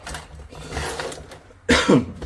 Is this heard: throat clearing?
yes